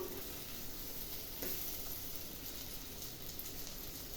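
Eggplant for bharta sautés over medium heat with a steady, dense, rain-like sizzle that continues unbroken. A single brief scrape or stir comes partway through, with no voices.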